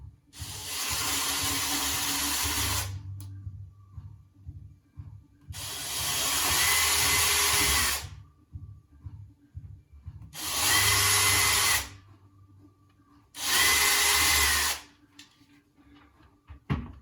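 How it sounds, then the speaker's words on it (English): A power drill bores into a mahogany yacht table in four loud, sustained bursts of a few seconds each, separated by quieter pauses with faint handling sounds. "Now I need to get a slightly bigger drill."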